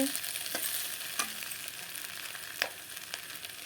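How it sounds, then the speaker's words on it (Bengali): Capsicum, potato and onion fry together in a pan with a soft, steady sizzle, broken by a few sharp clicks and spatters from stirring, close but fairly quiet and with no talking. "ক্যাপসিকাম আলু পেঁয়াজ একসাথে ভেজে নিয়েছি"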